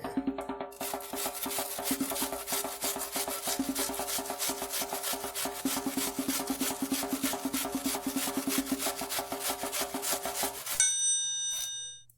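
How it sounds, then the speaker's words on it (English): An onion grated by hand into a bowl, fast rhythmic rasping strokes, loud and close, continuing without pause before stopping with a faint ringing clink. "we're going to grate this onion in here"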